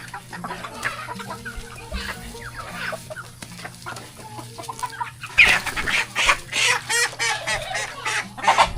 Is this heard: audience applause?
no